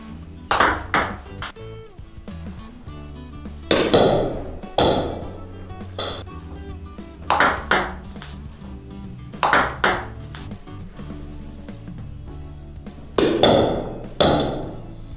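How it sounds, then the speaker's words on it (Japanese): Table tennis drive serve with heavy topspin, practised on a table: repeated sharp paddle strikes followed by quick ball bounces, in several spaced bursts across the clip, close and crisp with no talking. "じゃあ2つ目なんですけども、ドライブサーブですね。"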